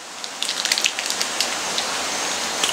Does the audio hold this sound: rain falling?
yes